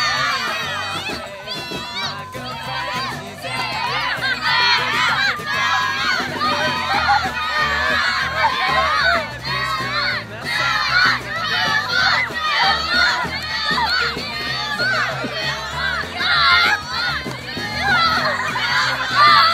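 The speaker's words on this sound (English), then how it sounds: "You got to cheer them on." Crowd of children shouting and cheering loudly and continuously at a strongman event with a boys and girls club, an energetic, sustained roar of young voices with excited yells throughout.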